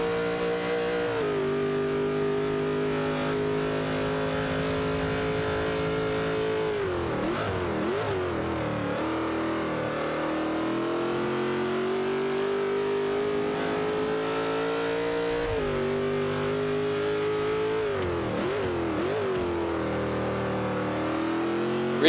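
Race car engines roar steadily through a Forza 5 race, a high sustained whine rising as the car accelerates, dipping twice during gear shifts or braking, then climbing again, loud and close with no speech.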